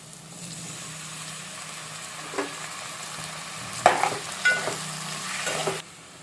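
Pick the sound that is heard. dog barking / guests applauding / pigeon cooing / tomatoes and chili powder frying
tomatoes and chili powder frying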